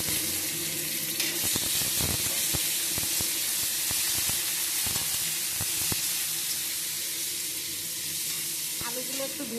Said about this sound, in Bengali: এই যে আলুগুলো হালকা ভেজে নিলাম